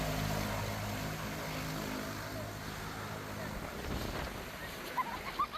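A propeller airplane with registration H40WA at Lomlom airport in Temotu, Solomon Islands, drones steadily and fairly loud throughout, with faint voices and some wind or surf-like noise mixed in.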